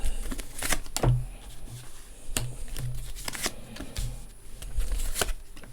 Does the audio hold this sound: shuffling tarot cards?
yes